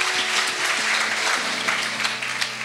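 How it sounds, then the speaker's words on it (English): Audience clapping inside a church during a 30th-anniversary service in Sydney, a steady patter of applause held at an even, moderate level, with a faint low tone lingering beneath. "let's give applause to Om Herman."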